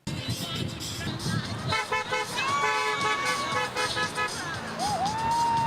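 Passing cars on a Guam roadside honk their horns at sign wavers at a human trafficking awareness event, with steady overlapping toots and longer blasts over traffic noise and crowd murmur.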